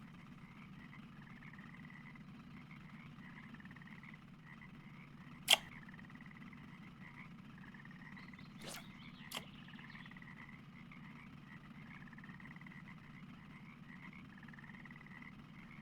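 Frogs croak steadily in the background of a quiet freshwater fishing spot in the Russian Fishing 4 game, with a low ambient hum and a few sharp clicks breaking through.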